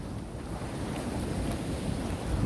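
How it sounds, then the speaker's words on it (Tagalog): Ocean waves surge and wash in a broad, steady roar on a rocky shore in Guam, with wind buffeting the microphone and no voices. "baka mabot na dito ng alon"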